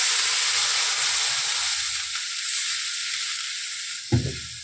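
Fish frying in a pan of mustard oil sizzles steadily, then water is poured in near the end and sets off a sudden louder burst of hissing and spitting.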